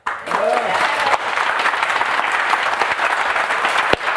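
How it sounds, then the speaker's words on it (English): A large crowd applauds steadily and loudly, a dense wash of clapping that holds at an even level throughout. "Can you get a round of applause for that?"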